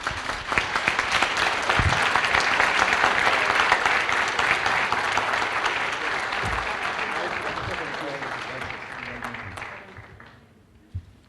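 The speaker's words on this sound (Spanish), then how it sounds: "triple aplauso para el panel para cerrar la sesión" Audience applause for a panel closing a dialogue session, sustained clapping from a room full of people that swells, then tapers off into a few last claps.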